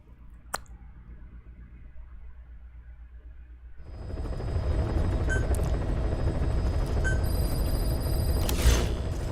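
Helicopter rotor noise from Metal Gear Solid V: The Phantom Pain, a quiet whir for the first few seconds, then a loud, steady broadband rotor roar swelling in and holding, with a few faint clicks.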